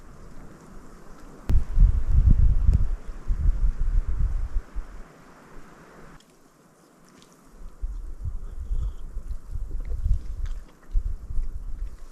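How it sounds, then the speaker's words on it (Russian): Strong wind gusts in snowy Siberian taiga roar against the microphone in low rumbling bursts, easing briefly midway before building up again. "Ветер достаточно сильный."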